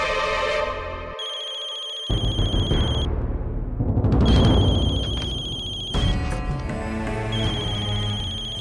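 A telephone ringtone repeats loudly in a home scene as a call is placed, its bright, patterned tone breaking off and starting again in steady cycles.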